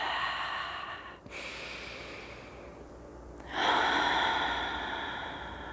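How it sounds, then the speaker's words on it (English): Slow, deep breaths drawn in during a gentle chair yoga class, two long airy inhales with a quiet pause between, close and soft with no talking. "Taking a couple nice deep breaths in."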